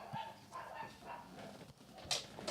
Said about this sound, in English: oh, it's those dogs